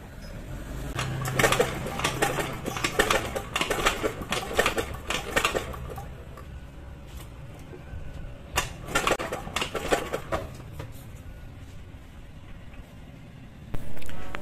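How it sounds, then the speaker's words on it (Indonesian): A motorcycle with lost engine compression is kick-started over and over by hand, giving clattering mechanical bursts in uneven runs, a pause, then more cranking strokes, heard close up. "lanjut kita selah-selah motornya supaya kompresinya timbul kembali ya"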